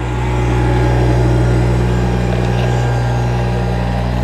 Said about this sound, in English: we're loading it up with the Kubota